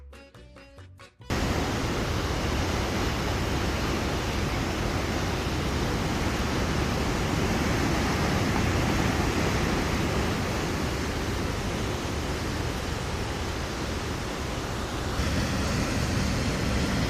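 Steady, dense roar of a waterfall rushing in Wild Basin, Rocky Mountain National Park, loud and continuous after a brief quiet start, with no talking over it.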